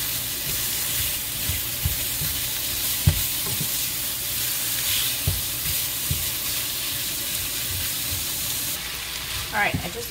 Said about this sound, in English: let's get the onions in the skillet. Saute those down with the sausage.